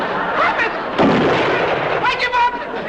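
A gunshot fired at a bear on a moonlit night in a classic comedy sitcom scene, a loud sharp blast with echoing rumble, overlapped by shouting voices.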